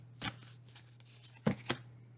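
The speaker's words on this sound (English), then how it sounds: "Sorry, I almost dropped a card then, so I always shuffle again when that happens." A deck of oracle cards is shuffled up close in a pick-a-card reading, giving a short riffle and then two crisp snapping bursts near the end, with no voices.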